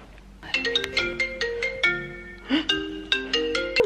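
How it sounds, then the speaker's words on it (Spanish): A phone ringtone plays a repeating melodic pattern of bright, bell-like synth notes for an incoming call, at moderate volume indoors at night, with faint background noise. "¿Qué está llamando Momo?"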